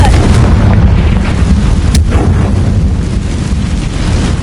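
Confringo blasting spell explosion in a video game, a loud, dense blast of roaring noise that holds throughout, with a sharp crack near the middle.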